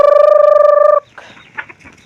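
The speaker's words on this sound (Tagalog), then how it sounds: "Mamahog na siya sa" A rooster in a backyard coop at feeding time gives a loud, sustained, close call that breaks off abruptly, followed by softer scattered clucking.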